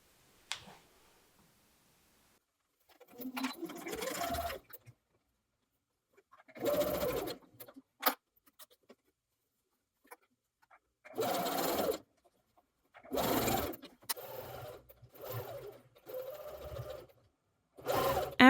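A sewing machine stitches tea towel ruffle pieces together in several separate bursts of rapid whirring, each a couple of seconds long, with quiet pauses between runs and no talking.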